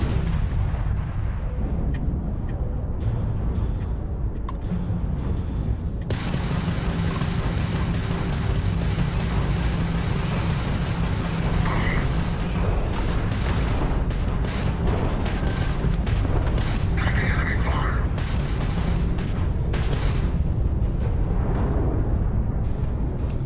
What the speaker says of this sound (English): Missile away, missile away.